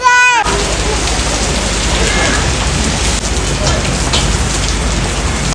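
Heavy rain pours steadily and loudly outdoors on a family trip, a dense unbroken hiss drumming on surfaces throughout, with a brief tonal sound at the very start before the downpour fills everything.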